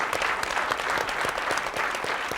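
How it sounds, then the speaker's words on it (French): Studio audience applauding on a French TV hidden-camera prank show, a steady dense clapping that fills the whole short stretch at even loudness, with no voices over it. "je crois qu'on peut l'applaudir"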